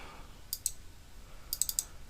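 Computer mouse clicks, faint and close: two single clicks, then a quick cluster of three or four, over a quiet room with no talk.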